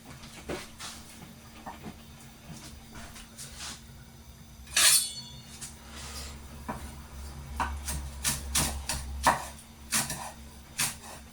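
A knife chops fresh chives on a board in a home kitchen: a run of close, sharp taps that quickens into a dense, rhythmic burst midway through, with a low steady hum underneath and no voices.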